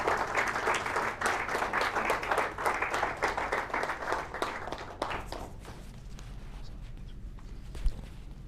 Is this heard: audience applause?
yes